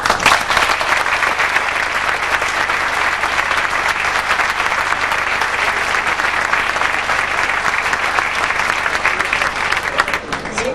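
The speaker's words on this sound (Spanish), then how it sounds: "Yo pido un aplauso para ella." An audience at a quality management lecture claps steadily for around ten seconds, the loud, dense applause holding an even level without any speech over it.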